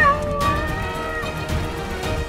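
A cat meows in a scene from the Aladdin TV series, a short drawn-out cry near the start that gives way to a busy, steady background bed.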